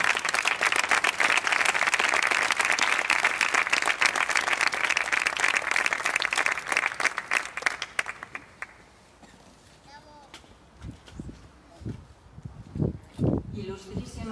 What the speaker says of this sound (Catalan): Un aplaudiment per Carme Via Sala.